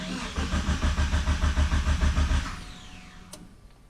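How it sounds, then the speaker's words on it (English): DSM turbo car engine cranking without firing, a steady rapid chugging rhythm of the starter for a few seconds, then stopping and fading out, close and loud. "It's cranking, but no starty."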